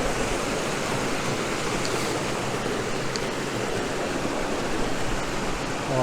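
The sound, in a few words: stream water flowing downhill from a loch, Grey Mare's Tail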